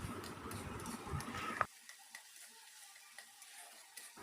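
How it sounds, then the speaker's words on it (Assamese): Water hyacinth flower buds frying over a medium flame and stirred with a spatula, a loud close sizzle for over a second that suddenly drops away, leaving faint scattered ticks and clinks. "মিডিয়াম ফ্লেমত খন্তিৰে এনেকৈ ভাজি থাকিম।"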